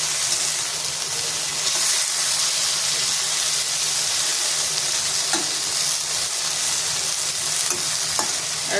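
Okra and onion curry fries in a pan with a loud, continuous hissing sizzle and a few light stirring knocks, close and with no talk.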